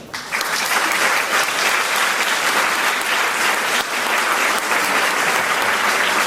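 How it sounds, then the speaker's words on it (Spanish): Sustained audience applause at a mental health and wellbeing congress in Spain, dense steady clapping from a large seated crowd, loud and continuous throughout. "Ese aplauso."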